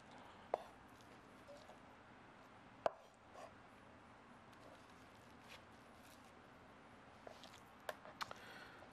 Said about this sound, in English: So we just cut into smaller pieces.